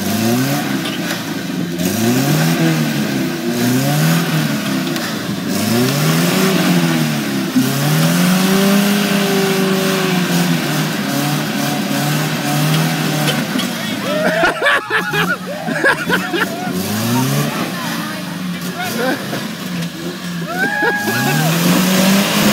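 A Suzuki car revs hard and accelerates after the clutch is dropped, its engine rising and falling in repeated loud sweeps up close, with crowd chatter and voices in the background.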